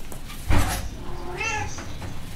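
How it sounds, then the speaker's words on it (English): A pet cat meows once indoors, a single drawn-out, rising and falling cry that follows a brief thump, fairly close and clear with no talking. "my cat has a voice"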